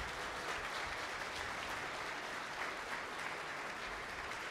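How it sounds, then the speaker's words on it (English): An audience at a plenary conference session applauds after a speech, a steady, moderately quiet wash of clapping from many hands with no talking. "Let's give Dai Tao a round of applause again."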